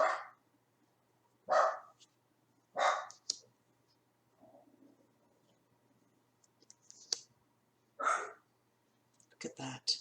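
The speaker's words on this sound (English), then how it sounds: "I do apologise about my dogs barking." Pet dogs bark in sharp separate bursts, about five spread over ten seconds, moderately close inside a quiet room, with faint low murmuring between the barks.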